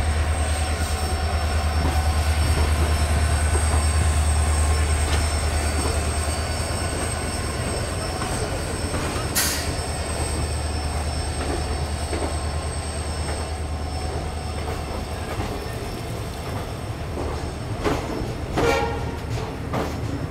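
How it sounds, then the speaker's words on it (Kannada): An unreserved passenger train rolls into Mysuru Junction, a steady low rumble of wheels and carriages with brief squeals and clanks, loud and close. "ಟ್ರೈನ್ ಸದ್ಯಕ್ಕೆ ರೀಚ್ ಆಗಿದೆ ಮೈಸೂರು ಜಂಕ್ಷನ್ ರೈಲ್ವೆ ಸ್ಟೇಷನ್"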